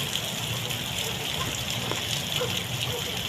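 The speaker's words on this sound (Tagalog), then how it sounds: "Grabe itong tubig na to galing pa to sa bundok oh." Loud, rushing floodwater from a mountain river during a typhoon roars continuously nearby, a dense churning flow with no pauses and no speech.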